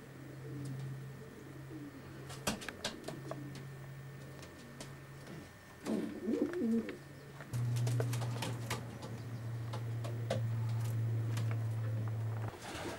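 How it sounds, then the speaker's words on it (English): Show pigeons coo steadily in a loft with nest boxes, low repeated coos close by that continue almost throughout, with occasional wing flutters and light tapping. "Yeah, wonderful pigeons."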